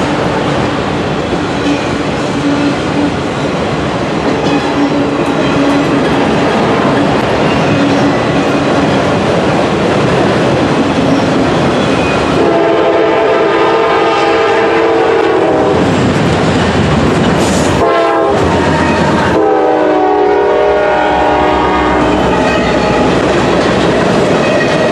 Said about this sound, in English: We are now about to witness a three-way meet here between both the northbound intermodal/autorack train